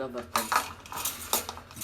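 Metal bird feeding bowls for a parrot cage clink and clatter as they are handled and set down, giving several close, sharp ringing knocks in quick succession.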